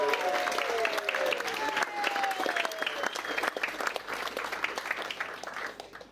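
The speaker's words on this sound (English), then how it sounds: "a round of applause for the bridesmaids as well, please" Wedding guests applaud the bridesmaids in a sustained, dense round of clapping during a wedding reception in Preston, Lancashire, with cheerful voices mixed through it.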